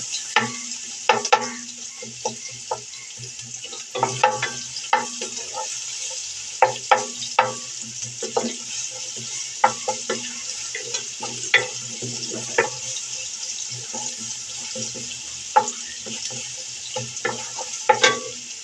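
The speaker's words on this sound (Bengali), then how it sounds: "বাটারটা গলে গেছে, আমরা এখন পেঁয়াজটা দিয়ে দেব। হালকা করে ভেজে নিব।" Onions fry lightly in melted butter, a soft steady sizzle punctuated by repeated sharp clacks of a spatula stirring against the pan.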